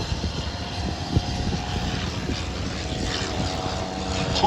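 A Sopwith Triplane, a First World War biplane-era triplane, flies at an air show, its propeller engine droning steadily at a moderate distance with a rough, continuous hum.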